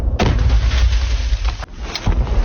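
A loud, deep boom of a weapon shot in combat erupts, followed by rumbling echoes and a second blast later, heard outdoors at a distance.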